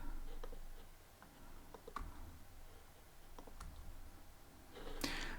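Sparse, faint clicks on a computer keyboard, a few isolated key presses spread out over several seconds, with a louder burst of clatter near the end.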